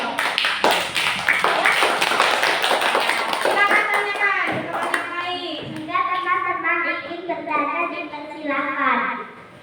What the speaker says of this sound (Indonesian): Kasih tepuk tangan dulu buat